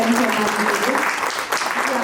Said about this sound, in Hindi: जोरदार तालियां हो जाए चरण शर्मा के लिए